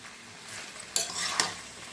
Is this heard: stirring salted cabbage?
yes